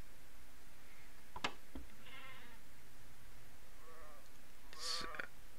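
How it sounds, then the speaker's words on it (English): Sheep bleat in a few short wavering calls amid low background hiss, with sharp clicks between them and a louder, higher bleat near the end. "That's a sheep."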